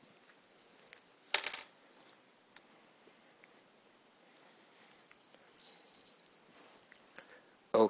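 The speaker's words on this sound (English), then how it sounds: "I will pour the pellets from the polyester bag onto the waiting bed of paper" Small .177 airgun pellets poured from a polyester bag onto paper towels, a faint scattered metallic patter with a louder clattering burst early on and another at the end, no talking.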